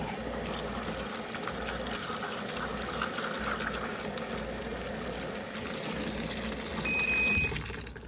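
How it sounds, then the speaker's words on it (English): A portable washing machine filling with water while washing very dirty rags: a steady, quiet pumping gush and trickle that swells slightly near the end, with no talking. "Add a little extra water."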